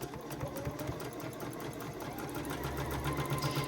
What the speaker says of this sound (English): I'm just going to repeat on all the rows sewing the first seam